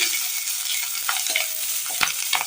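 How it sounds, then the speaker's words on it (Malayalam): Shallots, garlic, ginger and curry leaves sauté in hot oil with fennel seeds, a continuous close sizzle broken by a few sharp scrapes of a spoon against the pan. "ചെറിയുള്ളി നന്നായി ഒന്ന് വഴറ്റിയെടുക്കണം."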